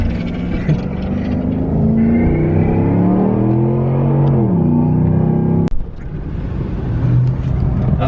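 A Ford F-150 pickup truck does a tire burnout with loud sustained engine revving and rising and falling pitch. A sharp break comes near the end, followed by a lower rumble.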